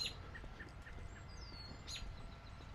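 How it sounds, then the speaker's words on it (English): Birds chirp in a park, with faint scattered calls and a brief whistling call over steady low outdoor background noise. "there's been birds everywhere making noise."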